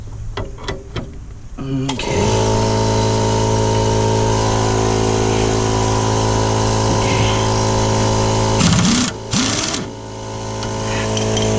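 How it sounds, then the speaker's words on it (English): A power tool buzzes continuously and loudly while removing a 17 mm fastener on a Honda Prelude CV axle, after a few short clicks at the start and with brief interruptions near the end. "get the gun on the other side, or another ratchet with a 17 millimeter on it, and you're just gonna take it off"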